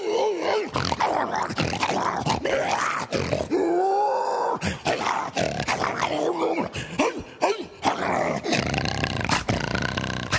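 A voice actor imitates a dog, producing a run of rough grunts, growls and barking roars in quick bursts, loud and close with no other sound behind it.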